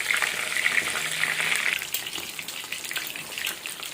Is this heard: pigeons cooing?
no